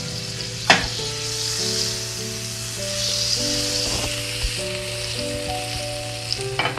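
Butter sizzling in a hot pan, a steady close frying hiss lasting several seconds with occasional small pops and knocks, under faint background tones.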